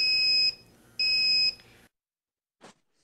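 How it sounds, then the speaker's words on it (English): A T40 Rattler personal gas detector sounds its low-level alarm: two loud, piercing electronic beeps about half a second each, roughly a second apart, then silence apart from a faint click. "A low-level alarm is indicated by an audible beep approximately every second, along with vibration and a blinking red visual alarm."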